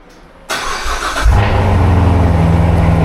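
A C7 Corvette engine cranks and roars to life, revving briefly before settling into a loud, rumbling idle close by.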